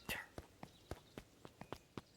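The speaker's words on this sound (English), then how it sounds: "Luca heard a group of footsteps approaching." Game footsteps in Beacon Pines: a group approaching, heard as a quiet, evenly spaced run of about eight soft steps, close and alone without talk.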